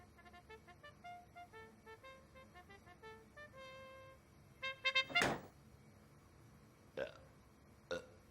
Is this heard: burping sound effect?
yes